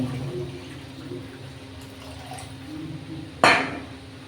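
Water poured into a pan of raw hilsa fish curry simmering in oil with turmeric and chilli powder, a faint simmer and a low hum, then a short, sharp splash near the end.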